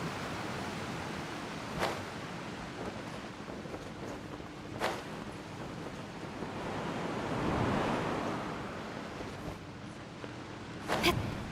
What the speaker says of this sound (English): Loud water.